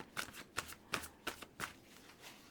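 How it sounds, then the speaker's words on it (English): A deck of tarot cards is shuffled repeatedly, five or six crisp riffling bursts in a steady rhythm, close and fairly quiet with no talking. "We're going to shuffle a few times here."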